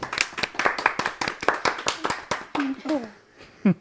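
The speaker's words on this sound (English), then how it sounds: "Wait, everybody, round of applause" Rapid hand claps from a small group, close and lively, fading out as a voice speaks near the end.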